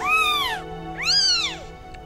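A three-day-old Tonkinese kitten gives two high, drawn-out meows during physical therapy, each rising then falling in pitch, loud and close, with a short pause between and no talking.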